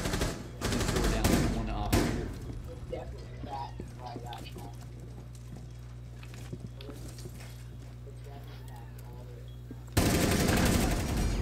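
Gunfire in Rainbow Six Siege, a dense burst of shots at the start, then quieter scattered sounds under a low steady hum, and a loud blast of fire returning near the end; voices talk over the action.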